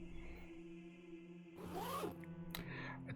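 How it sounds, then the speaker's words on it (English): Zipper of a body bag pulled open in one long rasping stroke after a quiet lull, close and distinct, ending with a short sharp snag near the end; no talking. "drag it along the length of the bag, and the zip makes a familiar zit sound"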